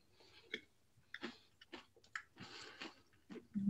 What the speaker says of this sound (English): You can hear him crunching too.